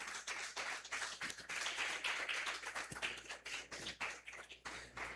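A church congregation claps in praise during a sermon, steady close clapping with uneven taps filling the whole stretch, fairly quiet overall.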